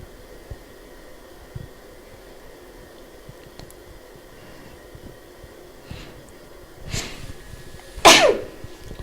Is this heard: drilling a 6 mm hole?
no